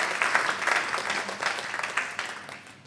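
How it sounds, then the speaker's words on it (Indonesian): Church congregation at an Indonesian Sunday worship service applauding together, a dense, steady wash of many hands clapping at moderate distance for about three seconds, with faint voices underneath. "Berikan tepuk tangan yang paling meriah kepada Tuhan"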